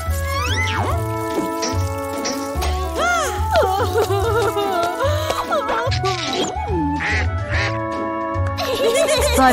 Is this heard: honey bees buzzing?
no